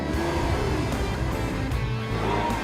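Lamborghini Aventador engine running loud and steady on an open desert road, a continuous dense roar with rising revs through the whole stretch, no talking over it.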